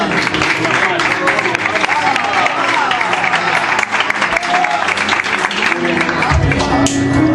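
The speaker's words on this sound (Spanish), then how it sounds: "Un fuerte aplauso para él." A church congregation bursts into loud, sustained applause, a dense crowd of clapping close around, with some murmuring voices mixed in near the end.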